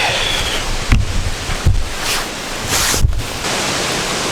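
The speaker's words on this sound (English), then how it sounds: "the wind's picked up a little bit" Wind gusts over a campsite at night, giving a loud, steady rushing roar against the microphone, broken by a few brief buffeting thumps.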